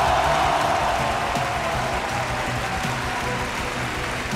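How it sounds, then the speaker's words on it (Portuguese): A studio audience applauds a guest on a TV programme, a dense, steady wash of clapping that stays loud and unbroken throughout, with no voices over it. "Palmas pra ele, Rafa."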